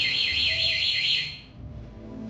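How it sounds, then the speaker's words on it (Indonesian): A Vespa Strada scooter's anti-theft alarm, set off by its remote, wails loudly in a steady warbling siren for over a second before cutting out, leaving faint background noise. "saya akan pencet alarm ini"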